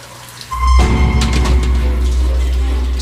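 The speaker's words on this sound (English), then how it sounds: "I go into the bathroom to get a shower." Shower water switching on in a bathroom, a sudden hard rush that starts after a brief tone and then runs steadily and loudly with a constant hiss and low rumble.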